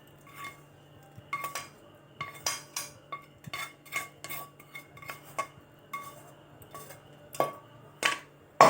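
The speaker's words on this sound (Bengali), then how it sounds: "এবার ভেজে রাখা সবজিগুলো মিশিয়ে দেবো" A spoon scrapes and clinks against a pot while fried vegetables are mixed into dalia, irregular metallic taps and scrapes over roughly eight seconds, close and fairly quiet with no talk.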